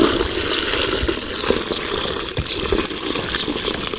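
Water gushes steadily onto newly planted saplings during tree planting on a farm, a continuous broadband pour lasting throughout, fairly loud and close with no speech.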